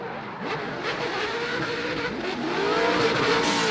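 Drift cars at a Raceway Park competition, a Nissan S13 and a family-built BMW E36, engines revving hard and steadily with rising pitch and a faint tire hiss, loud and continuous at middle distance.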